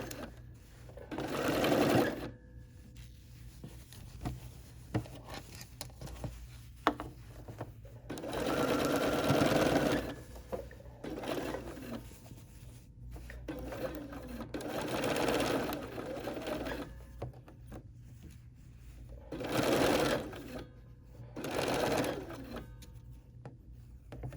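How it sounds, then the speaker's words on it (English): A Bernina sewing machine runs stay stitching around the neck of fabric for a bear, in several steady bursts of whirring several seconds each, separated by quiet pauses, close and clear. "I don't think it's a bad idea to do a little stay stitch on this material."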